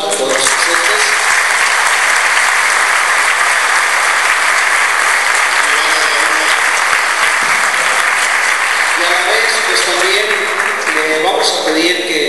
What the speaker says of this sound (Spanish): Le agradecemos con un caluroso fuerte aplauso a todos los presentes.